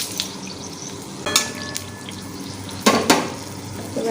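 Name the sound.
sugar frying in hot oil with whole spices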